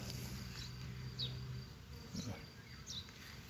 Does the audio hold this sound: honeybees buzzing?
yes